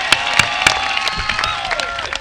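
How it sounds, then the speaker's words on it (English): Audience applause at a 2006 high school commencement ceremony, a steady wash of clapping with a few sharp louder claps near the start, continuing evenly throughout. "How about another round of applause for Cleo?"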